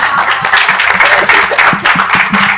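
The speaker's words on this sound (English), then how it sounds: "Let's give her a round of applause." An audience applauds at a youth workshop on bioeconomy, with dense, steady clapping from many hands, loud and close, and a brief voice mixed in.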